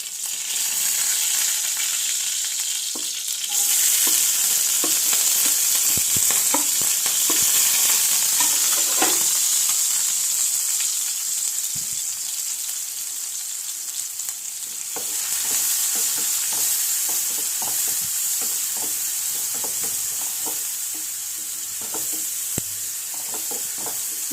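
Small onion and garlic with mustard seeds frying in a pan: a loud, steady hiss of hot oil runs throughout, broken by scattered clinks and scrapes of stirring.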